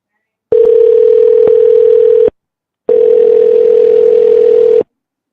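A telephone dial tone sounds loud and steady in two long bursts separated by a short silence while a dropped call is being redialed.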